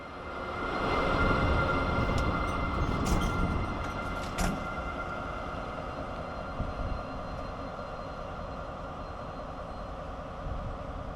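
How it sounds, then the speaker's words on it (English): A Pesa diesel locomotive rolls back toward its train on a Warsaw to Vilnius line, a steady rumble and hum rising early and then holding, with faint clanks near the end. "And here comes our Pacer locomotive back, now facing the right way and ready to take us to Lithuania."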